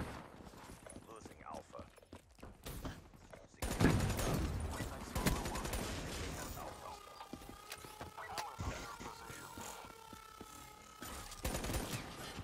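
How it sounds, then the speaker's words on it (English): Rapid bursts from the Tempest weapon in Call of Duty Black Ops 3 multiplayer Domination, loud and dense, with other game gunfire and action sounds around them and a player talking over parts of it. "I just put a whole clip in that guy, man."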